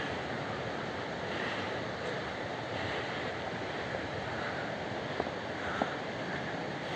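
A mountain waterfall heard as a constant, full rushing roar of falling water, steady and fairly loud throughout with no speech, with faint wind on the microphone.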